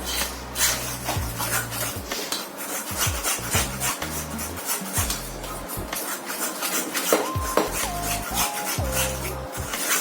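A fork scrapes and rasps steadily against a bowl while stirring thick meat batter the consistency of sour cream, with rhythmic rubbing strokes close up and no talking.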